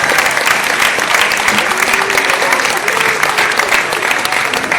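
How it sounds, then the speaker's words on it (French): An audience applauds a singer with sustained, dense clapping that continues strongly throughout. "et on l'applaudit encore"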